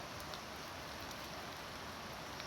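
Steady rain falls in a continuous even hiss over an upland rice field during days of heavy rain, soft and constant with no pauses or voices.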